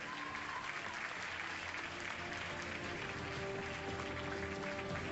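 Steady, dense applause fills an awards ceremony as an actress is announced, a large crowd clapping continuously and evenly throughout with no pause.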